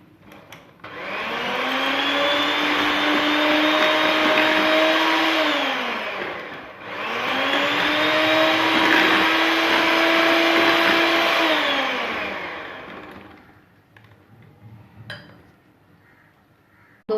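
An electric hand beater whips chilled whipping cream for cake frosting in a steady, loud, continuous whir that runs in two long bursts, with a brief dip in between, before cutting off, followed by a few faint clinks.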